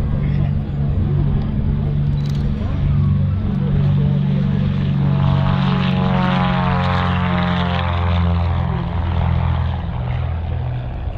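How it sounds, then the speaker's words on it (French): Propeller aircraft take off in close formation at an air show display in Gap-Tallard. A loud, continuous engine drone rises in pitch as they climb, with a voice heard over it. "C'est parti pour le décollage."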